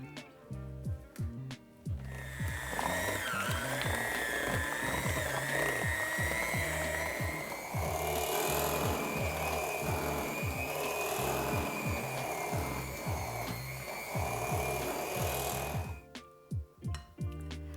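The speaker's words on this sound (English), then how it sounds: "So I'm going to use my hand mixer." An electric hand mixer whirs steadily through a bowl of filling with a cup of sugar for a caramel icebox cake, a loud continuous drone that starts after a few clicks and cuts off near the end.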